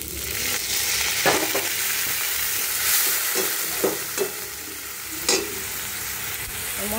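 Chili and onion fry in hot oil, a continuous bright sizzle broken by several sharp stirring scrapes and clinks of a utensil against the pan, with no one talking.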